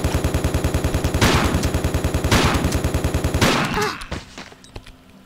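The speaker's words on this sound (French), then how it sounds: "Fusil à pompe, le meilleur." Rapid rhythmic gunfire in the Tomb Raider 4 video game, a steady stream of close, loud shots with three heavier blasts, and the firing cuts off near the end.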